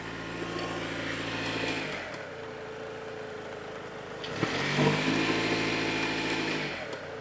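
A Mercedes W124 coupe barn find, long parked, running rough and smoky, its engine droning steadily and then revving up twice with rising roars that settle back to idle.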